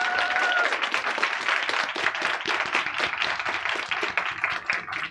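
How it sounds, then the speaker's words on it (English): A crowd applauds at the launch of a multi-party initiative for global health, with sustained, dense clapping at steady volume from start to finish and a brief tonal sound at the opening. "A big round of applause for all your great work."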